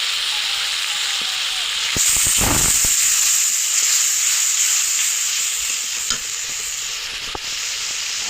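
Spice paste frying with onions in a pan for a tomato fish curry, stirred now and then, giving a steady close sizzle and hiss with occasional scraping knocks of the spoon.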